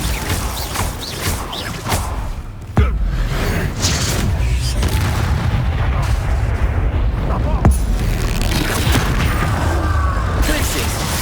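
Repeated Confringo and Bombarda spell blasts in Hogwarts Legacy, a dense, noisy stretch of booming impacts and crackling bursts, with a sharp hit near the start and another midway, continuing steadily under speech.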